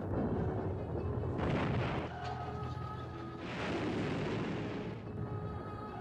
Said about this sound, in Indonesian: Ledakan yang bertubi-tubi